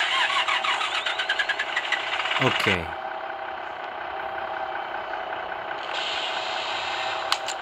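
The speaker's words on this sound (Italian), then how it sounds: "andiamo a accendiamo il motore" Irisbus Agora bus engine in Bus Simulator 2020 cranking with a ratcheting starter burst and catching, then settling into a steady mid-pitched idle, with a brief spoken word at the start and a short added tone near the end.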